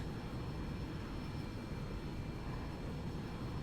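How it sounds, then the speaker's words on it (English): FlyJSim Boeing 727-100 jet engines in X-Plane 10 settle into a steady, even roar after startup, a dense low rumble with a faint high whine holding constant throughout, no voices present. "the engines are stabilizing in a healthy manner"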